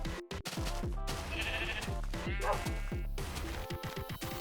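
Minecraft sheep bleat repeatedly in quick wavering calls, loud and close, mixed with game sound effects and thumps.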